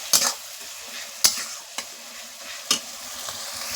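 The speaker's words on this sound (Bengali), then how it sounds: "পেঁয়াজটা লাল লাল করে ভেজে নিয়েছি" Onions fry in a pan with a soft, steady sizzle, broken by several sharp scraping clicks as a spoon stirs them, close up and with no talk.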